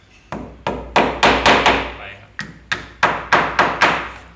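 Hammer strikes while mounting a flush-in-concrete Panasonic switch box: about eleven sharp, loud taps in irregular clusters, each a close hard thud with quick decay.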